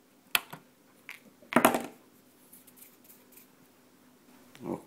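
Side cutters snip the legs of a resistor during repair work on a CB radio board, giving two sharp clicks close to the mic with a few faint handling ticks between and after them.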